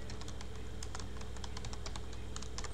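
Rapid, irregular keystrokes on a computer keyboard as HTML markup is typed, a steady stream of close clicks with no voices.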